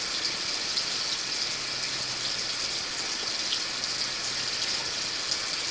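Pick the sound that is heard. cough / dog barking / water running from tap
water running from tap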